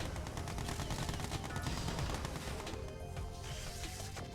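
Units in the strategy game Yuri's Revenge fire in dense, rapid volleys of gunshots and crashes, a busy continuous clatter of battle without any voice.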